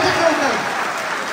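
An audience of Afghans living in Paris applauds children at a community gathering. The clapping is a steady, fairly loud wash, with a voice mixed in near the start.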